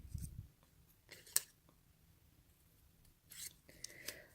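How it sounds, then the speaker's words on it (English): Scissors make a few short, faint snips while cutting a small paper craft flower along a marked circle, with quiet rustling between the cuts in a still room. "I'm going to cut just a little bit."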